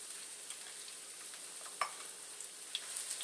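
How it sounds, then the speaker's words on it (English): Diced onions sweating gently in olive oil in a pan, a quiet steady hiss with faint crackles and a few small pops, heard alone without speech. "You just want to cook these without color and sweat them down."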